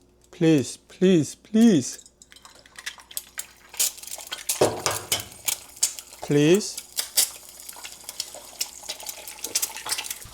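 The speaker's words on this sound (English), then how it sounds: "Now the pan is preheated. I'm going to add olive oil, eggs." Olive oil and eggs go into a preheated pan with clinking cookware and sizzling, following several short harmonic voiced sounds; a voice talks under the clatter.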